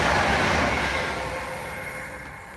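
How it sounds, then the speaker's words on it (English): A train rumbles past close by, loud at first and gradually fading as it moves away. "here comes the train now."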